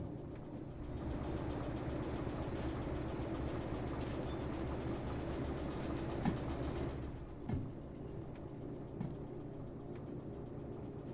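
A train rumbles along steadily in the railway simulation game Derail Valley, a continuous low mechanical drone with faint clanks and bumps, moderately quiet and unbroken throughout.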